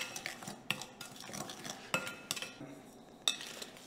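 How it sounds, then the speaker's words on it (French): Orange zest is stirred into sugar in a bowl with a utensil, giving soft scraping and clinking strokes with a few sharper taps, close and fairly quiet, with no talking. "On va le mélanger avec le sucre."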